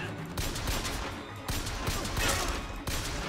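Gunfire in Bioshock Infinite, a dense sustained barrage of shots broken by brief pauses, loud and busy, without talk.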